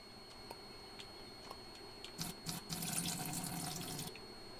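Water pours from a tap in the farming video game EverDream Valley, a soft steady flow rising into a louder splashing rush for about two seconds over faint ticking, with no talking.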